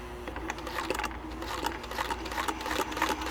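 A sewing machine stitches steadily and loudly, its rapid needle rattle running continuously without pause.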